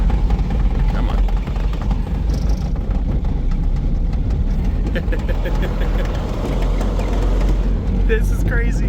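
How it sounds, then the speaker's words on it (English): A Smart car fitted with snow tracks drives along a road, producing a loud, steady, vibrating engine and track rumble throughout, with occasional clanks and a speaking voice over it. "I'm driving my smart car on tracks and it even turns, like the steering is light. It's so loud and vibrating."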